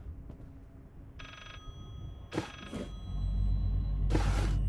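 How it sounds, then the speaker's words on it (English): A telephone rings in the horror video game Layers of Fear: a few short electronic ring bursts at intervals, over a low creaking ambience that swells into a deep drone. "I hear a phone, but I don't see one."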